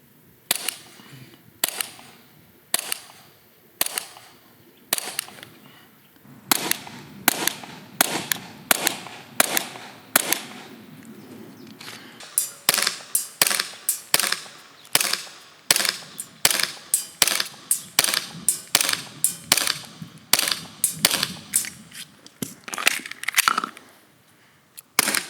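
A VFC Umarex Glock 45 gas blowback airsoft pistol firing on Black Gas: sharp, close snapping shots with slide clacks, first spaced singly, then in quicker irregular strings for about twenty-five seconds.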